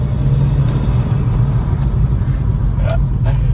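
A car fitted with a Ramair induction kit and aftermarket exhaust gives a steady, loud low rumble from close by, a throaty idle and light revving with traffic around and brief talk over it.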